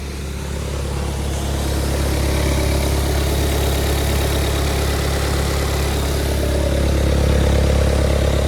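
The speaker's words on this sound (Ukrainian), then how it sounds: "Йдемте на холодну слухати двигуна і потім ще раз на гарячу." A Volkswagen Tiguan engine idles cold and steadily at close range, a low continuous rumble with an even mechanical throb and no voices.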